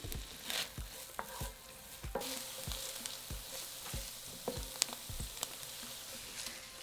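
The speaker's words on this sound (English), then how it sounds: "Add a diced large onion to the pan and cook for 5 minutes until softened." Diced large onion fries in a cast iron pan with a steady close sizzle, punctuated by repeated soft scraping and tapping as it is stirred; no one speaks.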